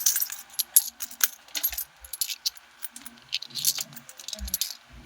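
Coins taken from a wallet are counted by hand: close, irregular metallic clinks and jingles as the coins are picked up and set down, with quieter gaps between.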